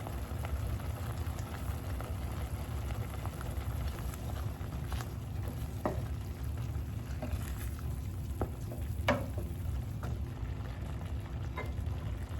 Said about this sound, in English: I'm going to go ahead and add some oxtail marinade and some gravy browning.